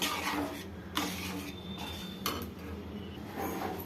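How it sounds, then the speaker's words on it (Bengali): Quiet scraping and clinking of a utensil stirring mushroom and vegetable soup in a pot just after a paste is poured in, a few distinct metallic taps over a soft background hiss. "যে পেস্টটা করেছিলাম ওইটা আবার আমি এর মধ্যে ঢেলে দিচ্ছি। তারপর নাড়াতে থাকবো।"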